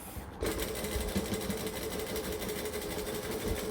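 A sewing machine runs in a quick continuous burst while back stitching on quilt binding, a steady close mechanical whirr with rapid rhythmic needle clatter starting after a brief pause and carrying on alone to the end.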